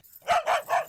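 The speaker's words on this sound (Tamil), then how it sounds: "என்னது என்னைக்கு இல்லாம நம்ம நாய் இன்னைக்கு இப்படி குலைக்குது?" A dog gives three quick, sharp barks in a row, fairly close and clear against a quiet background.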